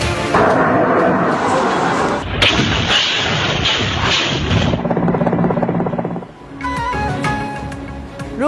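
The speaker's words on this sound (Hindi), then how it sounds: "दारुल हुकूमत कैफ में धमाकों की आवाजें।" Explosions and heavy booms during a Russian attack on Kyiv, Ukraine; several loud, close, rumbling blasts follow one another over several seconds, with no talk.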